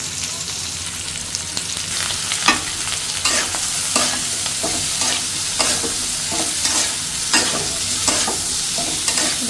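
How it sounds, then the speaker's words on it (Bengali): Diced potatoes with green chillies, salt and ground spices sizzle steadily in a pan, with a run of scraping spatula strokes clattering through the constant frying hiss. "আলুটা দিয়ে দিচ্ছি কাঁচামরিচ লবণ সব গুঁড়া মশলা কষে নেব"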